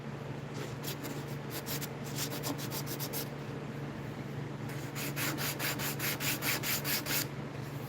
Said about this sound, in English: you just start sanding your glue up as it's glued up